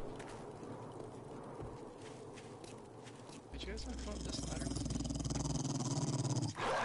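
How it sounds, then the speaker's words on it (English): In the video game 7 Days to Die, a zombie dog growls amid busy in-game noise, while players talk over it throughout. "Dog sounds vicious."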